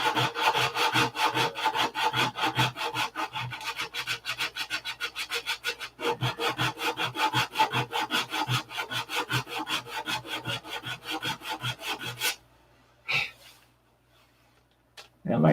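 Sanding filler on an aircraft repair in a hangar, a fast steady back-and-forth rasping stroke repeated for about twelve seconds, then stopping into near quiet with a brief rustle.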